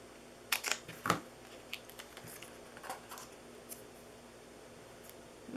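Scissors snipping paper while making a Christmas reindeer box, a few crisp close cuts clustered early, followed by fainter scattered snips and light paper handling in a quiet room.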